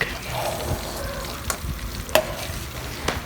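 Butter melts in a pan before garlic goes in for buttered shrimp, a soft continuous sizzle broken by a few sharp crackles and clicks, close and fairly quiet.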